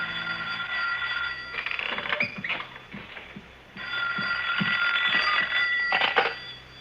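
A telephone rings in a radio drama with repeated bursts of bright electronic trilling, moderately loud over a faint background, in two main ringing spells.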